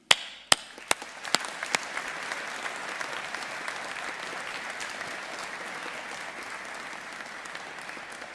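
A graduation hall audience applauds families and supporters: a few sharp early claps grow quickly into broad, steady applause from a large crowd that carries on evenly.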